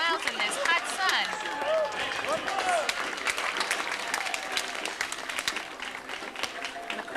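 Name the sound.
parade crowd applauding young girls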